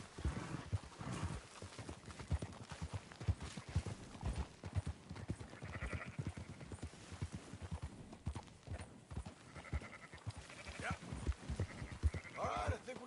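Horses' hooves clip-clop steadily and close while rounding up scattered sheep in Red Dead Redemption 2, with an occasional whinny and faint bleats, all under ongoing game dialogue.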